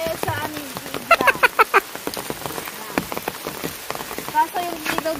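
Rain falls near a river, a steady close hiss of drops with scattered sharper patters, while people talk quietly over it.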